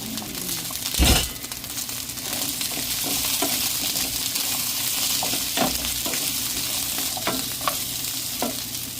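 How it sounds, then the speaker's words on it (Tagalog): Garlic sizzles and crackles steadily in hot oil alongside green beans, with occasional spatula stirs and scrapes against the pan, a continuous close frying hiss with no talk. "Ilagay na po natin ng bawang."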